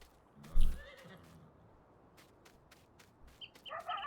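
A horse whinnies once, loud and close, in the farm game Farming Simulator 19, followed by a quieter stretch with faint clucking fowl and short rustling taps.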